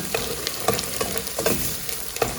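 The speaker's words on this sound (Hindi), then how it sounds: "लहसुन और अदरक अच्छी तरह भून रहा है" Garlic and ginger frying with spices in a pan for a beef paya curry, producing a dense, close sizzle punctuated by light stirring clicks.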